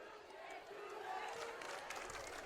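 A crowd at a varsity high school football game reacts loudly to a penalty with sustained shouting and booing in the distance, plus a faint commentator's voice underneath.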